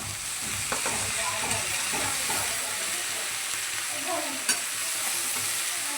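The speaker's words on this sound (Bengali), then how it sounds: "এটা এখন ভালো করে মিশিয়ে দেব।" Pumpkin curry (kumro chhechki) being mixed in a frying pan, a soft continuous sizzle with faint scraping strokes of a spatula, fairly quiet and even throughout.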